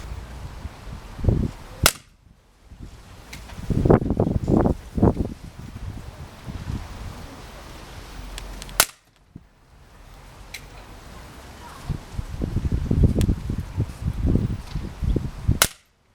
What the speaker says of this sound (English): we're going to be firing each of our 6 shots in the single action mode